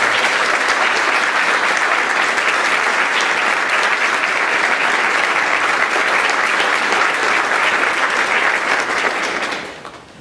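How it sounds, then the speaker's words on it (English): An audience at a Founders Day convocation applauds, a loud, dense, steady clapping that continues for about ten seconds before tapering off. "Please give these people a show of applause."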